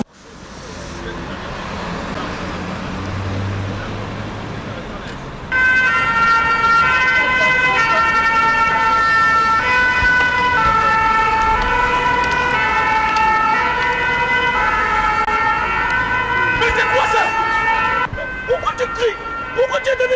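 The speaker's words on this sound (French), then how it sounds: "Mais c'est l'ambulance, ce ne sont pas les policiers!" An ambulance siren wails in a repeating tonal pattern over street traffic noise in Paris, loud and fairly close for most of the stretch, with a brief lull near the end.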